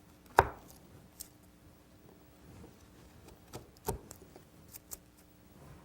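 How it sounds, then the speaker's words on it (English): A bevel-edge chisel pares waste wood from a deep chop line, bevel up, giving one sharp close cut near the start and a second crisp strike later, with small faint scrapes between in a quiet room. "I can come in, bevel up, and take off a good chunk of wood as I'm paring"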